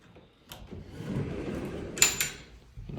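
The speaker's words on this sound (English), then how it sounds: "Nice pocket door." A pocket door in a lake home's master suite slides along its track with a soft rolling rumble, ending in a sharper knock as it stops, heard up close in a quiet room.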